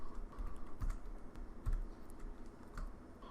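Someone types on a computer keyboard while entering a spreadsheet formula, giving a close, quiet series of light keystroke clicks at an uneven pace, with a few sharper taps standing out and no talk.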